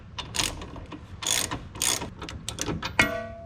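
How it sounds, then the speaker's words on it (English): A spring compressor is tightened on a car suspension spring during a lowering-spring install, giving close bursts of ratcheting clicks in quick runs, ending with a sharp metallic clank that rings briefly. "I have put the spring compressor on. This just needs to be done up."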